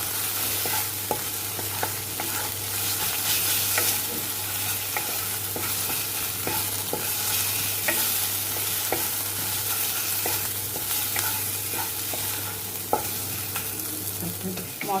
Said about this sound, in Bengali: এখন তেলে মশলাটা ভালো করে কষানো হবে।